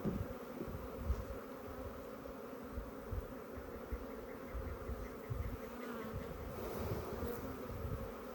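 Africanized honey bees swarm around an open hive, a dense continuous buzz of many wings, quiet and even, near the listener with no voices.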